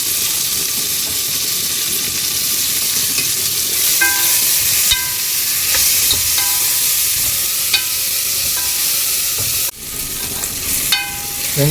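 Biryani tempering of chillies and tomato sizzling and frying loudly in a pan, a dense continuous crackle with scraping stir strokes and clinks from a utensil, close and alone without speech.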